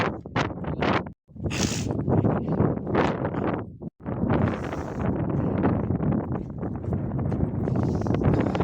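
Strong wind blowing outdoors in a cold, snowy place, loud continuous buffeting gusts hitting the microphone, broken by two brief dropouts, with no voices.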